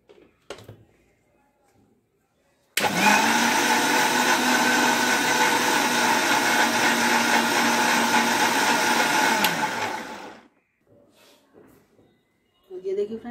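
A mixer grinder blending papaya with sugar and cardamom pods, whirring at a loud, steady pitch for about seven seconds before winding down, with brief talk before and after.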